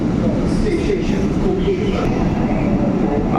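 Pulling out from Kavi Sukanta platform, a metro train gives a heavy steady rumble with faint wheel squeal on top, loud and close throughout.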